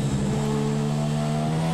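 In F1 2017 at the Melbourne Grand Prix, a Formula 1 car's engine screams loud and steady at high revs, a continuous whine with a slight pitch rise and no voices.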